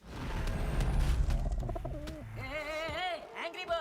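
A pigeon coos in a Hindi-dubbed movie, several soft rolling coos near the end, heard after a stretch of rustling background noise.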